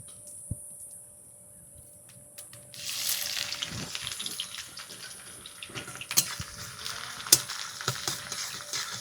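Chopped onions hit hot oil already tempered with chillies and cumin, a loud burst of sizzling that starts a few seconds in and keeps crackling steadily close by, with scattered sharp pops and no talking.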